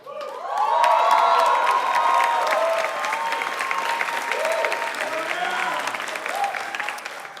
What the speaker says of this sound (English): This is the most applause Iraq has ever gotten.